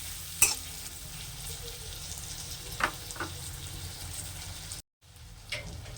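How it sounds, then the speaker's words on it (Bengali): Tomatoes frying in a pan for a spicy pabda fish dopiaza, a steady soft sizzle under a few brief scraping stirs, with a short gap of silence near the end. "এগুলো ভালোভাবে নেড়ে চেড়ে নিতে হবে।"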